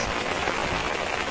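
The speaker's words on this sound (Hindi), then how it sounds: "दोस्तों बहुत तेज बारिश हो रही है" Heavy rain pours down along a roadside in Gujarat during the rainy season, a dense, steady hiss that fills the short moment without any voices.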